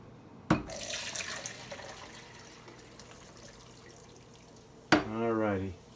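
Water kefir grains strained in a kitchen, with a short pour at the start, a quiet gap, then a second brief trickling splash near the end.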